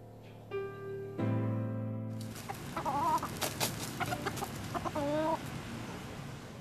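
Chickens cluck in short repeated calls over a busy farmyard backdrop, with an earlier low sustained tone at the start and no talking.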